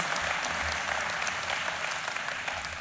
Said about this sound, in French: Et merci de les applaudir